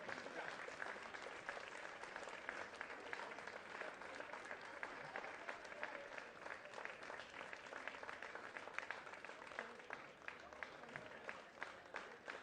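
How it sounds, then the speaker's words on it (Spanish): Steady, dense applause from a crowd at a cycling race awards ceremony in Estella-Lizarra, Spain, sustained without pause for about twelve seconds as a winner receives a prize, with faint voices mixed underneath. "Fuerte el aplauso para Luca."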